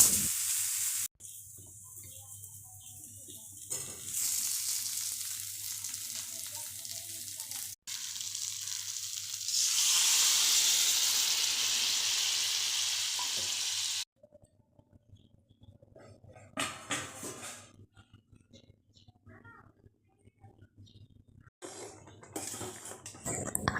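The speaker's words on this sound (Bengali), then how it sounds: "এবার ভালো করে কষাতে থাকবো যেভাবে করি" Tomato juice, sugar and spice mixture being sautéed in a home kitchen pan, with long stretches of steady loud sizzling broken by pauses, stirring scrapes and occasional clinks of a utensil against the pan.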